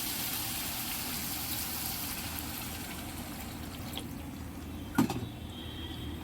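Water is poured into a pan of raw mango fish curry, making a soft, steady rush and bubbling at low volume, with one sharp clink near the end.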